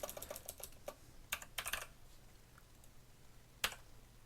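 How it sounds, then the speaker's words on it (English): Bursts of computer keyboard typing, close and fairly quiet, with short clusters of keystrokes separated by pauses and a final isolated click, no voices. "I'm going to just type in pump"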